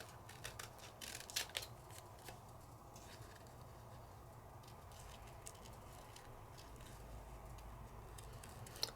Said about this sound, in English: Just a little bit of fussy cutting, just because I want to use every little scrap out of here.